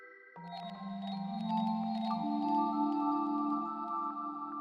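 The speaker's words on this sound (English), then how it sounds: "the last sound is just a basic bell combination" A synthesized bell combination passes through a granular delay with one voice an octave up and one an octave down, producing layered sustained tones that enter in stages and swell into a shimmering chord.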